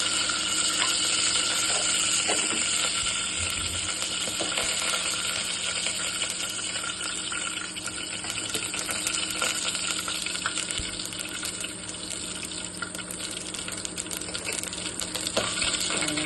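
Mustard seeds and fenugreek fry in hot oil with a dense, steady crackling sizzle as the seeds pop continuously up close.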